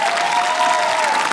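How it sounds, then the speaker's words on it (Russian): An audience at a Russian television game show claps together in a dense, sustained burst of applause with a few faint cheers, a steady wash lasting the whole short moment. "Давайте поаплодируем."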